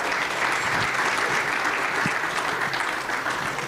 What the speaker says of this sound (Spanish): Les pido un fuerte aplauso para tan importantes profesionales.